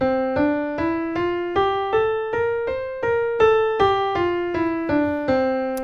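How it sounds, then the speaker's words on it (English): A C Mixolydian scale played on a keyboard, fourteen evenly spaced clear notes climbing and then descending, each struck and decaying with rich harmonics, alone with no talk. "We've got C Mixolydian, and it sounds like this."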